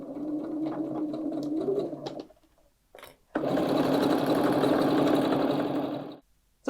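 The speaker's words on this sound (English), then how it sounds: "I'm going to quickly stitch along here" A sewing machine stitching along a tote bag's fabric pieces in two bursts, the first shorter and softer, then a louder sustained whir of rapid stitches, separated by a brief pause and handling clicks.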